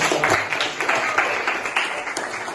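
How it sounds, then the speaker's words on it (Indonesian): A classroom of students claps together in a short burst of applause, fairly loud and close, lasting only a couple of seconds. "Tepuk tangan."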